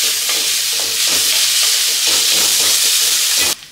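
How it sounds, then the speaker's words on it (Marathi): Coarsely ground green peas sauté in a hot pan as filling for Maharashtrian mirchi vada, giving a loud, steady sizzling hiss broken by repeated spatula scrapes and stirs before cutting off abruptly at the end. "वाटलेला वाटाणा आपल्याला 2 मिनिटं परतवून घ्यायचा आहे"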